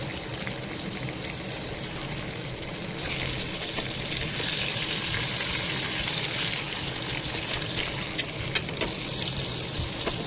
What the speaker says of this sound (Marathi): आता फ्लिप करूयात आणि दुसऱ्या साईडने यांना छान शेकून घेऊयात.